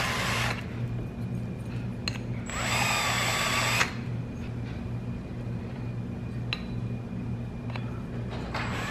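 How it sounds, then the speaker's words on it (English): A power drill spins a bit to deburr holes in metal, a short high-pitched whirring burst of about a second heard close up amid faint workshop noise and small clicks. "That's about all I use this bit for, is deburring metal holes."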